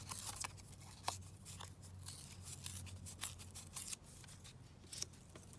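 Paper being torn by hand for an Edith Holden–themed junk journal, heard as a quiet, close run of crisp, irregular rips and crinkles over about five seconds, with no talking.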